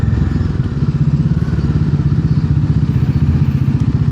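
A motorcycle engine runs steadily while riding in third gear, a close, continuous pulsing drone at even rhythm with road rumble underneath and no talk.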